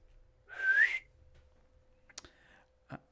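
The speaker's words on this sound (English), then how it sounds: "you hear a whistling coming from the trees." A single clear whistle sounds from the trees, a short, rising tone that stands out alone in a quiet setting, followed by a couple of sharp clicks.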